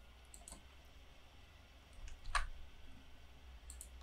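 A computer mouse gives a single sharp click midway, faint against a quiet room hum, with a few softer ticks nearby.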